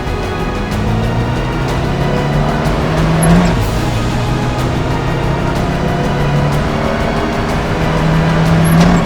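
A Paykan car accelerates along an airfield runway in its normal configuration, its engine a steady, loud droning roar that builds and holds close by for the whole stretch, with no voices over it.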